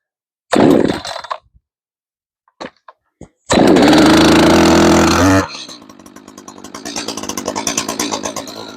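A professional-grade chainsaw pull-started, with short bursts of starter cord and a sputter, then the engine catching into a loud, close roar that drops to a rough, pulsing idle.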